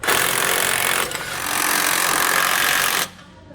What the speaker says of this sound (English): We're going to tighten down the smaller ones on our bushings here with an 11/16 socket and a 5/8 wrench.